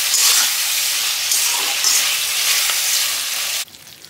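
Fish frying with onion and capsicum for restaurant-style chilli fish gives a loud, bright, steady sizzle up close, which drops off sharply just before the end.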